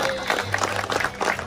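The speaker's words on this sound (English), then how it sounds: "So clap your hands." An audience at a shark show at Ocean World, Amber Cove, Dominican Republic, claps in a steady rhythm, the dense crowd noise filling the short moment.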